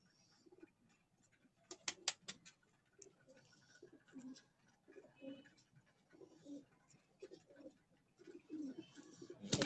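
Pigeons coo softly on a rooftop loft, with repeated low, throaty calls and scattered wing flutters and clicks, faint and steady over several seconds with no talking.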